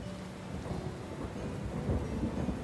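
In a video game, thunder rumbles through a storm while steady rain patters, low booms swelling near the end over the constant hiss of falling rain, with no voices.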